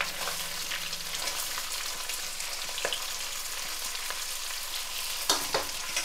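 Chopped garlic frying in a pan as it is stirred, a steady hot sizzle with a few sharp scrapes and clinks of the spoon near the end.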